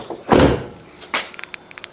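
A Fiat 500 Pop's door is locked up close, giving one solid thunk, then a softer clunk and a few faint small clicks, with no talking.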